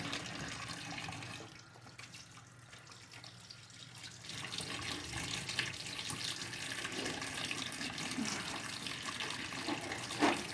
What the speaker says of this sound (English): what I'm going to do again is wash my hands, dry them